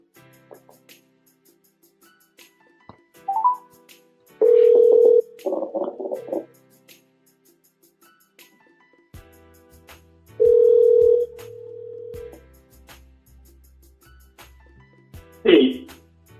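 Steady telephone dial tones on a call-in line, two sustained tones of about a second each, with brief beeps and a talk-radio host's voice in between.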